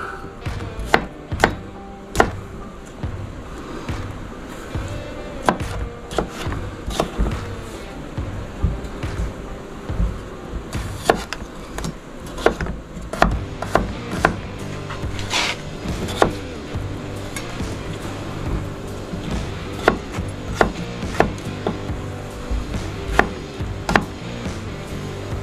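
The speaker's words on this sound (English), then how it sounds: "We're just gonna cut them up pretty small." A sharp knife dicing vegetables small on a cutting board, rapid uneven knife taps repeating for about twenty-five seconds, close and clear with no talking.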